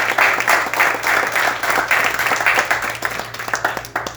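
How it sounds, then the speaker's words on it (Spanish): A church congregation claps together during a sermon, a loud, dense burst of applause with rapid, slightly uneven hand claps that holds steady and then tapers a little toward the end, with no speech over it. "Denme un aplauso al Señor Jesús."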